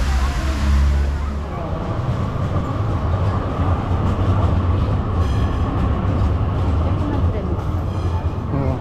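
A tram in Bursa, Turkey rumbles past nearby with a heavy low drone and wheel noise, while people talk faintly in the background.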